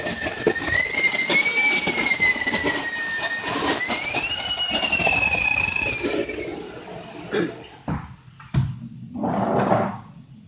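Swiwin turbine engine running at higher RPM, a loud, close, roaring jet whine with a rising and falling high tone, which then cuts off into shorter irregular bursts of rushing noise.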